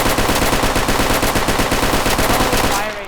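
Uzi submachine gun firing full auto in a Roblox Berkeley County game, a loud, rapid, unbroken burst of gunfire lasting about three seconds before it cuts off.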